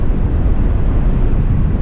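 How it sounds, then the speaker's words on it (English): Strong wind buffets a paraglider in flight, a loud, steady, close roar of rushing air over the microphone. "Got very windy"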